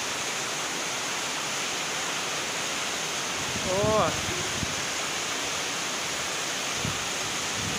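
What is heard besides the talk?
natural waterfall pouring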